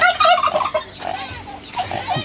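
Turkeys gobble in rapid, warbling bursts, close by and fairly loud, with a brief pause between calls.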